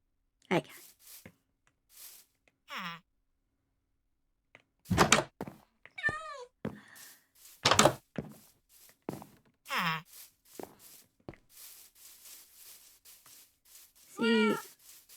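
Minecraft cat meowing in a quiet village, several short separate meows spread through the stretch between soft footsteps and game thumps, fairly close, with no talking.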